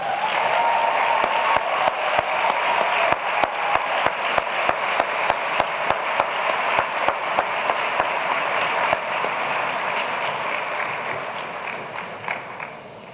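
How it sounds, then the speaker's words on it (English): Warm applause from the audience at a university spring convocation ceremony for the Brian Sand Quintet, a steady wash of many hands with a few sharp individual claps standing out, holding for about ten seconds and then fading. "let me ask you to join me in giving the Brian Sand Quintet a very warm round of applause"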